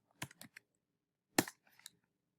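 Quiet computer keyboard typing of a website name: a few soft key clicks in two brief clusters, close and isolated.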